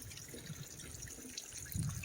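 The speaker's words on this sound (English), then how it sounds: "the trail just kind of turned into a little creek for a minute, figured I'd fill up" Creek water on the Appalachian Trail trickling and splashing as a water bottle is filled, a soft steady close-up flow with a brief burst of gurgling near the end.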